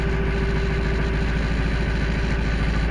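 A heavy-duty Ford Power Stroke diesel truck idles with no muffler, its engine putting out a loud, steady low rumble with a fast rhythmic chug that runs unbroken.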